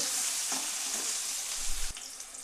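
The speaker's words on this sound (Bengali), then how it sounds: "আলু দিয়ে এবার আমি একটু নেড়ে দিচ্ছি প্রথমে।" Boiled potatoes frying in a hot spice tempering give a steady bright sizzle, with a few soft stirring knocks and scrapes nearby.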